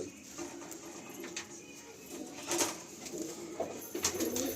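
Malbai pigeons at a breeding loft give soft, low cooing calls, repeating faintly over a steady background hum with a few brief sharper bursts.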